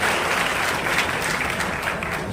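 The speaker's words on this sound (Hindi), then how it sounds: "जनाब वालिद पठान साहब तालियों से इस्तेकबाल कीजिए" Dense, loud, continuous applause from a crowd at a public political meeting in Mumbra, welcoming a speaker with an unbroken wash of clapping.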